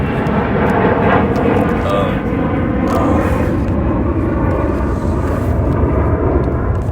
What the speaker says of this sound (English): So that was an airplane.